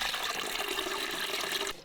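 Compost tea pours steadily through a cloth filter into a bucket, a continuous rushing, splashing stream of liquid heard close and alone, stopping abruptly near the end.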